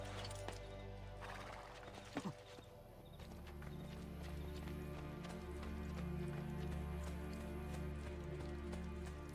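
Horse in the video game Assassin's Creed Brotherhood, heard as steady hoof clip-clop with a brief whinny early on, running continuously under game ambience and music, moderately near.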